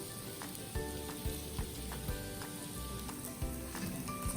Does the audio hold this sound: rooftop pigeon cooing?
no